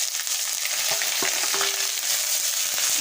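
Mustard paste mixed with green chili, ginger and garlic pastes sizzles steadily in a pan while a spoon stirs, scraping and clicking against the metal in an irregular rhythm. The frying is close and loud throughout, with no voices.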